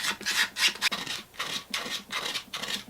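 A 3D printed Cloud accessory part is smoothed by hand with repeated rhythmic rubbing and rasping strokes, fairly quiet and close, with no talking.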